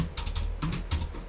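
Quick bursts of keystrokes on a computer keyboard, three short clusters of close, crisp clicking while a line of code is entered in an editor on Ubuntu.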